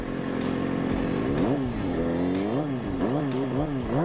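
A motorcycle engine revving hard as the clutch is popped for a wheelie, with loud, rising and falling engine pitch sweeps running continuously throughout.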